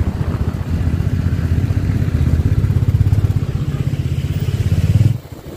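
A motorcycle ridden along a mountain road on the route from Haridwar to Janki Chatti, its steady, loud engine thrum sounding close throughout before dropping away sharply near the end.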